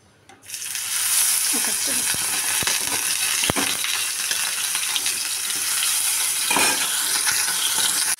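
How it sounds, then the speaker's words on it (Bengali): Bata fish frying in hot oil in a wok over a gas flame gives a loud, steady sizzling hiss that starts suddenly and runs throughout, with a few sharp clicks and clatters. "মাছগুলো ভাজা হতে থাক"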